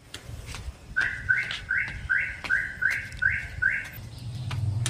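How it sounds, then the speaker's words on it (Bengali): A bird calls in a quick, evenly spaced run of about eight short, bright repeated notes, fairly close and loud over faint background noise. "এই যে কুকুকু ডাকছে"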